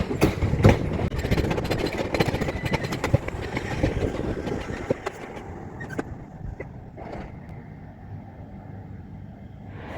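Train passing near the Shoeburyness railway depot, heard from a footbridge, with rumbling wheels and clattering rail noise that is loudest at first and then fades as the train moves away, leaving a quieter hum.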